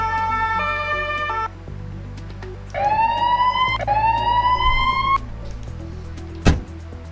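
Emergency vehicle sirens in the Emergency 4 video game on a Barcelona mod, a steady electronic tone followed by two rising wails, loud and close, ending with a short thud.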